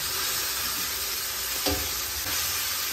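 Ginger garlic paste frying in a hot pan for prawn masala, giving a steady loud sizzle with stirring and one brief clatter midway, no talking.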